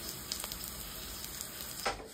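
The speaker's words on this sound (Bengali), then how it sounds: "একটা পিঠ ভাজা হয়ে গেছে এরকম গোল্ডেন ব্রাউন করে, আর একটা পিঠও হয়ে যাবে, কম আঁচেই ভাজতে হবে পুরোটা।" A chicken burger patty fries on low heat with a soft, steady sizzle and a few faint crackles.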